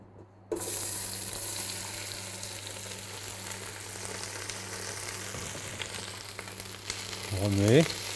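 Sliced fennel hits hot olive oil in a pan and settles into a continuous close sizzle, with faint stirring and a brief clatter and scrape near the end.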